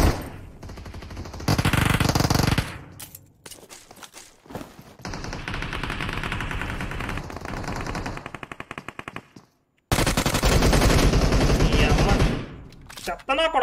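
Automatic gunfire in a battle royale game, long loud bursts of rapid shots that come close together and are split by short pauses, with a dense rattling rhythm throughout.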